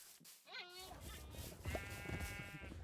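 Two Minecraft sheep bleats, a short one near the start and a longer wavering one after a pause, heard over a soft game background.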